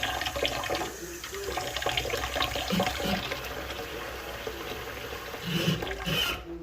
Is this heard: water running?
yes